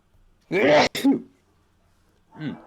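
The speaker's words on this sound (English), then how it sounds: "Wow, what a sneeze!" A sneeze from a person in a tabletop storytelling session, one loud burst with a sharp snap, followed after a pause by a quieter voiced sound.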